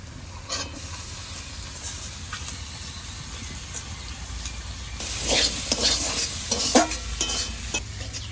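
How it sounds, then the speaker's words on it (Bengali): Boiled peas are stirred into spiced potatoes in a pan, making a steady sizzle under scraping strokes of a spoon. The stirring grows louder and busier about halfway through, with repeated scrapes and clatters against the pan. "সেদ্ধ করে রাখা মটরগুলো দেওয়ার পরে খুব ভালোভাবে আমার মেশানো হয়ে গেছে"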